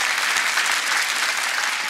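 Steady, dense applause from a crowd at a Logari folk music concert, sustained clapping at an even level throughout with no voices rising above it.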